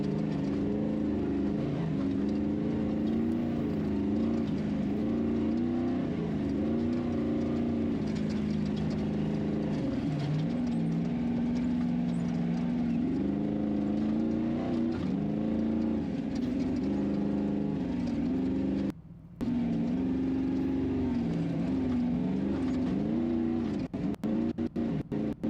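Ultra4 off-road race vehicles roar across the desert at the Laughlin Desert Classic, a steady loud engine drone with rising and falling pitch that cuts off briefly near the end, with no talk.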